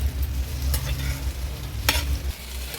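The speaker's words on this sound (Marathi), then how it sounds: "ही भेंडी जी आपण भाजून घेतलेली ना ती ॲड करूया। व्यवस्थित मिक्स करून घ्यायची आहे कांद्यासोबतच।" Roasted okra being stirred with onions in a pan over a wood-fired stove, loud scraping strokes and soft sizzling with two sharp spatula knocks against the pan, close and alone.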